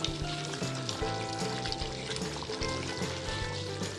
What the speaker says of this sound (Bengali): মাংসটা কষাতে দিয়ে গিয়েছিলাম